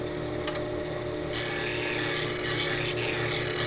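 A hand plane blade is ground on an abrasive, with a faint rasping that turns into a loud, steady, harsh scraping grind partway through. No one speaks.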